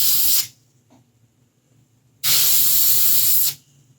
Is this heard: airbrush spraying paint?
yes